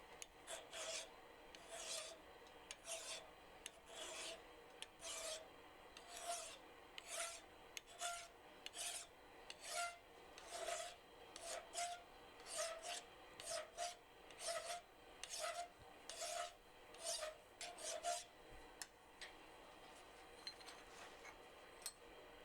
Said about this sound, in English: But here, we're going to just do it with a file.